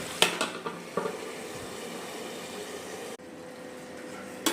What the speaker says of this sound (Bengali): এবার আমি চিকেনটাকে কমিয়ে কমিয়ে কষাবো।